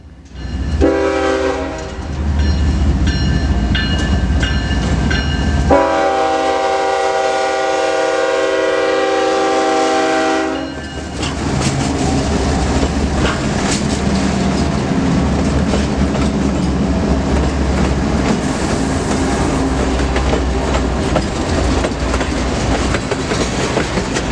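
An Iowa Interstate freight train pulls slowly out of a rail yard, loud and close: a steady diesel engine roar, a long sustained horn blast, then rumbling wheels and clattering cars rolling past.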